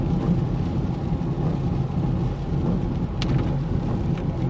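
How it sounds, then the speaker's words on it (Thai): Heavy rain falls across the sky during a storm on a narrow road on the way to Nang Rong, a dense steady roar of downpour with a low rumble underneath and no talk. "ตกทั่วฟ้าเลยครับฝนนี่"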